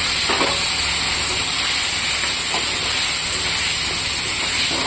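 Spices with garlic, turmeric and a little added water fry in a pan, making a loud, continuous hissing sizzle close to the microphone, with a few faint clinks and no talk.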